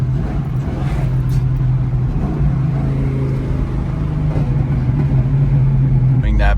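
A 331 stroker V8 with long tube headers rumbles low and steady, lifting into a few mild revs, with people talking over the engine throughout.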